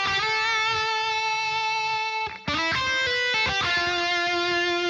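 Electric guitar plays melodic phrases from a song with a clean, sustained tone, sliding between held notes, with a short dip in level near the middle.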